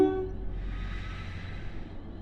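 In a Roblox train game, a British Rail Class 180 Adelante diesel unit gives a short horn note at the very start, then a soft steady hum carries on underneath.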